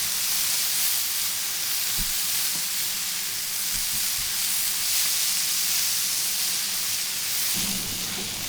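Broccoli, green and red peppers and green onion stir-frying in a hot pan, a steady loud hiss and sizzle running throughout with a few faint clicks and knocks of stirring.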